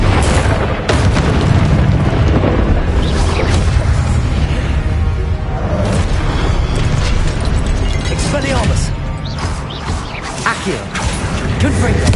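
Confringo blasting spells exploding in a wizard video game, dense booming blasts and crashing effects that stay loud and sustained throughout, with a voice speaking over them.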